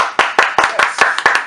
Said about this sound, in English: Let's go ahead and clap it up, people.